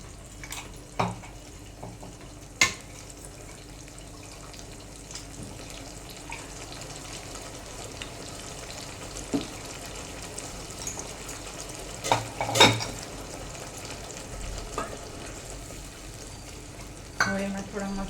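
Curry leaves fry in oil for a green tuvar sabzi, a faint continuous sizzle broken by occasional clatters and stirring knocks, with a voice talking now and then.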